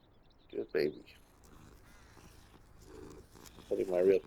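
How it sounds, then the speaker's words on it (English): A real house cat purrs softly while being petted, a low, quiet rumble broken by a few louder short vocal bursts near the start and end. "Petting my real cat as well."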